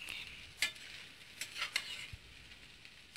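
Vermicelli noodles with fresh coriander leaves stirred in a pan, quiet scraping strokes and a few faint utensil clicks against the metal, low and close, no voices.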